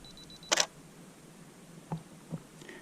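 A single crisp camera shutter click close by, taking a photo of flowers at a 1/160 s shutter speed, followed by faint handling clicks in a quiet room.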